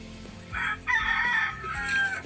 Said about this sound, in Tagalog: Wala na naman tigil ang kakasigaw ang mga manok na ito